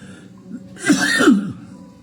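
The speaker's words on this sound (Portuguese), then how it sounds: "Perdão pela tosse." A single rough cough with some throat clearing rises over a quiet background, fairly close and moderately loud, lasting about a second.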